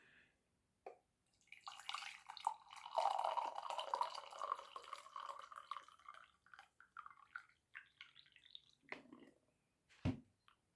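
Tea is poured into a cup, a soft trickling stream that swells for a few seconds, then tapers into scattered drips and small clinks, quiet and close in an otherwise still room.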